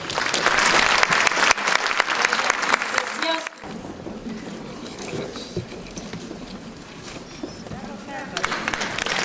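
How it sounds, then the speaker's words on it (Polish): An audience at a women's political assembly bursts into loud, dense applause for a few seconds. It then eases into lighter, scattered clapping that continues to the end, with voices underneath. "Jeszcze raz brawa, mocne brawa."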